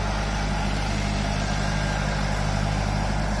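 A tractor engine runs near a field of corn and sunflowers by a river near Philippi, Greece, a loud, steady low rumble for the whole brief stretch with no talk.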